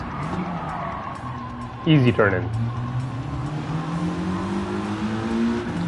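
Gran Turismo 7 racing car braking in a straight line and turning in: a steady engine drone with a short downshift burst of revs, then rising engine tone through the corner, heard under someone talking.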